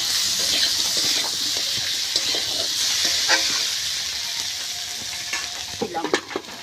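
Ginger and green chilli paste frying in a pan hisses in a dense, steady sizzle, with a few utensil scrapes and knocks toward the end and no talk.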